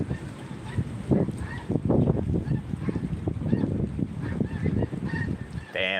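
A flock of geese flying overhead honks in a steady scatter of calls that carry above wind and background rumble outdoors.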